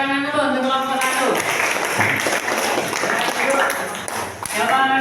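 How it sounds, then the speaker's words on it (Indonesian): A class applauds a student presentation group in a university classroom. After a voice at the start, a burst of clapping runs for about three seconds, and talk resumes at the end. "tepuk tangan dulu untuk kelompok 1"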